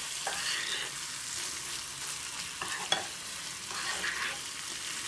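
A carrot and asafoetida mixture is stirred in a hot pan for curd rice, giving a steady soft sizzle with spoon scrapes that swell every second or so, with one sharper clink near the middle.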